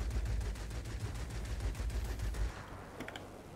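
Rapid machine-gun fire from a Messerschmitt ME 209 V6 fighter in the World of Warplanes game, a dense continuous burst for about two and a half seconds that then cuts off, leaving quieter engine drone and brief clicks.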